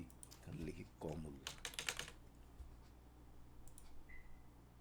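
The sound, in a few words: typing on a computer keyboard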